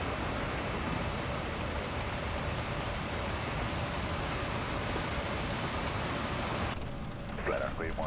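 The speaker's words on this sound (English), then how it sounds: "the rain effect in X-plane is done very, very well" Simulated rain from the X-Plane 12 flight simulator, heard with Laminar Research's default Airbus A330-300, a steady, dense hiss of rainfall that holds evenly and then thins near the end, where faint voice-like sounds come through.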